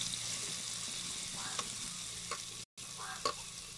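Onions sautéing in a pan after mustard seeds, cumin, fenugreek and asafoetida, a soft continuous sizzle with a few faint utensil taps, quiet and close, briefly cut off near the end.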